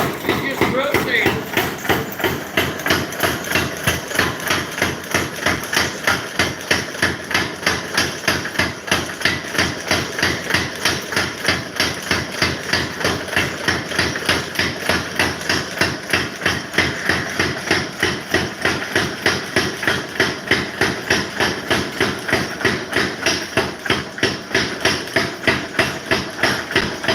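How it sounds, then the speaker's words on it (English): Power hammer forging a hot railroad spike into a steak turner, a fast steady train of heavy metallic blows repeating for the whole stretch, close and loud, with occasional talk underneath. "So we're up to temp and going under the power hammer"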